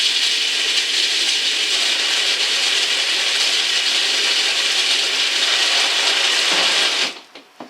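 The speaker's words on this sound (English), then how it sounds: "We're going to go start in the low gear, stock gears, 12 volt stock power, and we'll see what we're getting for RPM." A stock 12 volt Power Wheels ride-on toy runs in low gear on stock gears, giving a steady, loud whirring motor drone that holds evenly for about seven seconds before cutting off abruptly.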